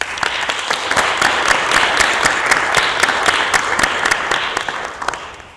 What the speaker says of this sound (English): A round of applause for these 4 guests